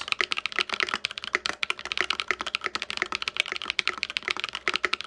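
Fast typing on a Graystudio Space 65 mechanical keyboard fitted with Holy Panda tactile switches, a dense run of crisp close-up keystrokes at a steady quick rhythm with no talking.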